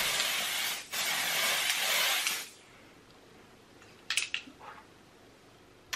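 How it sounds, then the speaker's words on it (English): A hissing aerosol spray sounds in a few steady bursts, fairly close, followed by quieter room tone and some brief clicks. "we'll do a little bit of this setting spray today and see what we think"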